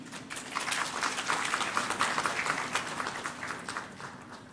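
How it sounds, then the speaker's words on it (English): An audience at a formal event applauds to welcome a president, a dense, even wash of many hands clapping that swells and holds at a moderate level before easing off. "let's once again extend our warmest applause to welcome His Excellency President Dr. Moha"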